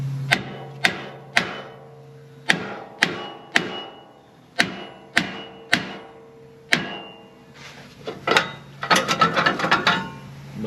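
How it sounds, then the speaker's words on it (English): A ball peen hammer strikes the parking brake drum of a 2005 Ford Expedition: about a dozen sharp metallic blows at an uneven rhythm, each ringing briefly, ending in a quick flurry of rapid rattling hits, close and clear. "you use the ball peen side of a ball peen hammer, and you'll hit it in between"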